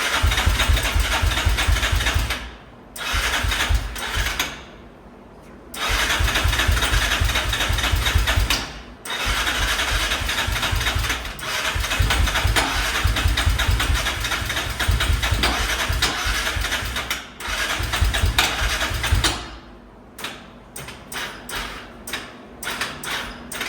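A Yamaha Raptor 660R ATV engine cranks and sputters roughly, catching and dropping out repeatedly with short silent gaps, loud and close.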